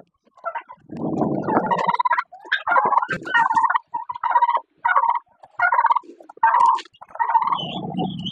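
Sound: hungry farm birds calling for food

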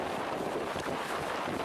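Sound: strong wind and waves at a beach, Koh Samui

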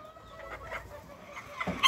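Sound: miniature chickens clucking

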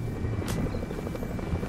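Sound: helicopter in a video game

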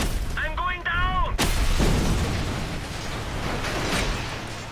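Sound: gunfire in the video game Just Cause 2

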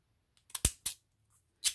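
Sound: scissors cutting

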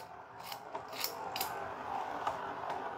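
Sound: Beyblade Dragoon G engine gear spinning

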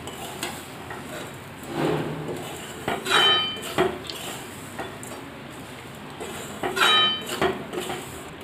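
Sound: stirring semolina, coconut and sugar in a pan

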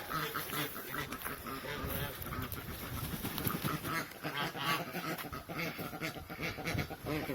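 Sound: ducks quacking

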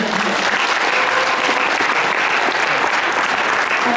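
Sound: audience applause at convention award ceremony

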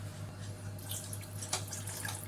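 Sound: water poured into cooking pot

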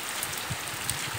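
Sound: heavy rain falling in Bahia

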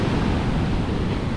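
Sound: rough ocean waves

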